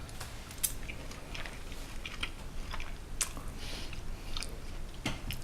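Close, soft, wet chewing of veal marsala, with irregular squishy bites and smacks repeating steadily over several seconds and no talking.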